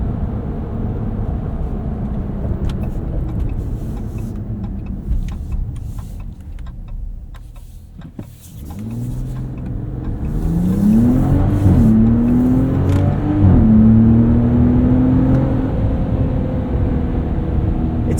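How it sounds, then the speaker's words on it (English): A 2025 Ram RHO pickup truck engine hums steadily while driving, dips briefly, then revs up with rising and falling pitch as it accelerates, loud and close. "this kind of unshakable feeling that this engine has European character to it"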